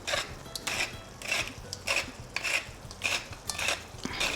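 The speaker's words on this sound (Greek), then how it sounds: "Ανακατεύω." Spoon stirring lasagna sauce seasoned with paprika, oregano, black pepper and salt, eggplant lasagna, producing a steady rhythm of about eight scraping strokes against the pot, close and moderately loud with no talking.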